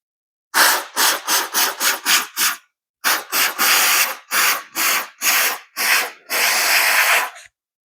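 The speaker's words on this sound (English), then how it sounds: "we're going to start with this can of chain clean, and I'm going to spray it on here" Aerosol can of chain cleaner sprayed onto a motorcycle chain in a string of short hissing bursts, then several longer sprays, close and loud with brief gaps between.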